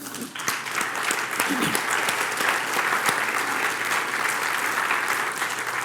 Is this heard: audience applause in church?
yes